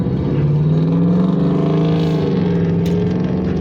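A loud, rumbling engine drone from a heavy vehicle close by, with a deep throbbing exhaust note that shifts pitch as it passes.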